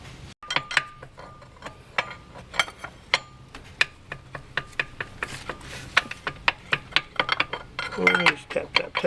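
An old harmonic balancer on a car engine is tapped off by hand: a long run of sharp, close metallic taps, fairly regular and several per second, with brief speech-like sounds near the end.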